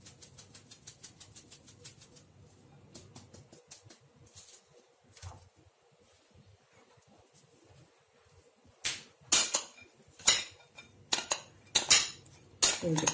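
Blueberries and flour mixed in a bowl with a utensil, giving light tapping scrapes at first, then a run of loud, close clinks and clatters against the bowl toward the end.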